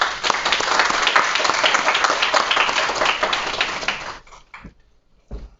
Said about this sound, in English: give our first cohort of graduates a big round of applause